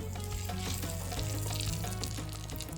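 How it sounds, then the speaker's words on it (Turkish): Hot oil with red chili flakes is poured over a plate of hummus, making a loud, steady close-up sizzle and crackle that lasts throughout, with no one speaking. "Hemen içerisine biraz pul biber atacağım ve burada humusun üzerine dökeceğim."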